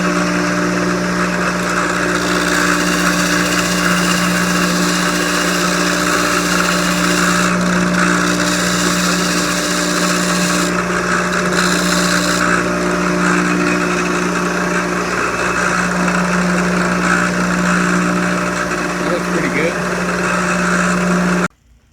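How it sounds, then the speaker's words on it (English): A belt sander smooths small saw-kerf imperfections from the ends of wooden spindles in a woodshop, a loud, steady whirring drone that holds unbroken for the whole stretch before cutting off abruptly at the end. "now we're over here on the belt sander, and we're just going to clean up the little imperfections left by the kerf of the saw blade."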